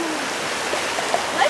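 Water rushes and splashes steadily along a stream near a waterfall on a rainforest trail, a loud continuous broadband wash filling the short stretch.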